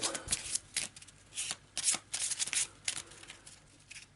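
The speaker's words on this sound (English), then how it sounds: "A quick shuffle." A deck of cards, the Elder Thing research deck from the Eldritch Horror board game, is shuffled by hand nearby in a quick run of crisp, riffling bursts with brief pauses between them, without talk.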